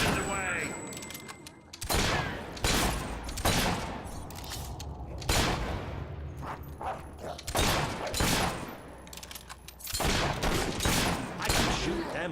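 Repeated gunfire in Fable III, bursts of loud shots and thuds in clusters across the battle, with voices speaking between and over the volleys.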